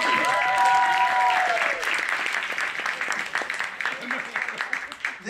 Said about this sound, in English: We can clap. I mean, we can clap.